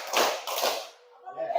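A group claps together in a classroom clap game, bursts of hand claps with murmured voices and a pause before more clapping.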